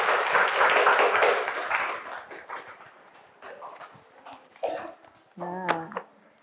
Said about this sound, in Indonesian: tepuk tangan untuk kelompoknya Mbak Sirin.